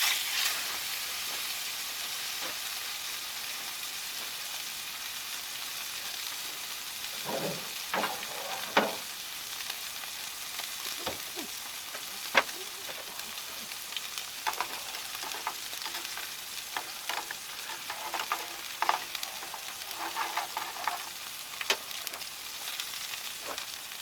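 Steak sizzles and fries steadily on a big burner cooker outdoors, a constant close hiss with occasional crackles and pops scattered throughout, no talking.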